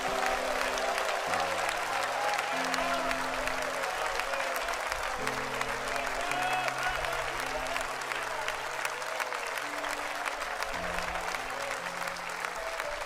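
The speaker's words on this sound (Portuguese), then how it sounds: "dê uma salva de palmas para Jesus." A church congregation claps together during a Portuguese-language worship service, a steady, full room of applause lasting throughout, with low sustained keyboard or music tones underneath.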